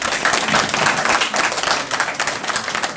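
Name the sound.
round of applause for center administrators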